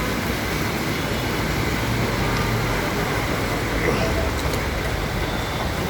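Vehicles driving through a flooded city street in Dhaka after rain, a loud, continuous rumble of traffic and engines with wet road hiss, close and sustained.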